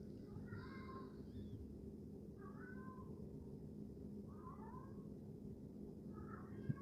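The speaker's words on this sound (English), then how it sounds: "a cat starts meowing" A pet cat named Betsy meows four times at an even pace, faint and some distance off, over a low room hum.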